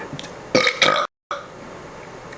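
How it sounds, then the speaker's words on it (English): A single close burp, two rough throaty pulses broken off by a moment of silence, then faint room noise. "I wake up, I got a burp"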